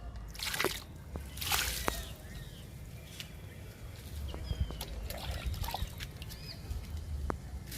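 Liquid fertiliser poured onto fruit plants such as sapota, Barbados cherry and sweet lemon in summer: faint, intermittent trickling and light splashing close by, with a few soft background noises.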